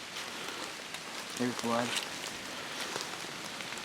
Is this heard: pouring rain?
yes